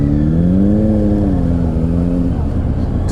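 FTR 1200 naked motorcycle revving up under acceleration, a steady engine drone with rising then falling harmonic pitch, close and loud throughout.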